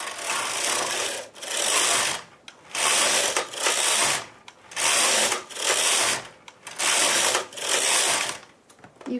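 A knitting machine carriage sweeps back and forth across the needle bed for eight rows of fern lace, each pass a loud ratcheting mechanical rush with short pauses between strokes at a steady rhythm.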